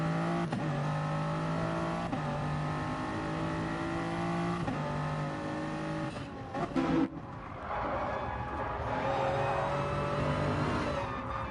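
The onboard engine of a Toyota Supra race car in a racing game drones steadily under load with harmonic tones, shifting pitch through gear changes and a brief lift before climbing again, close and loud.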